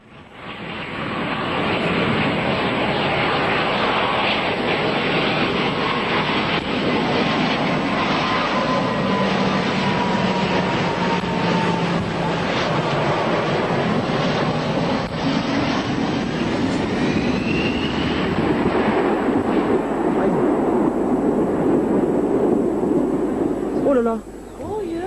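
Airplane roaring past at an airshow, a loud sustained engine noise that swells and then fades toward a crash beyond the runway, with a crowd audible underneath throughout.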